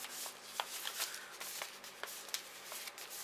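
A package found on the floor being opened by hand, with papery crinkling, rubbing and a few sharp tearing clicks scattered irregularly, close and fairly quiet, no voices.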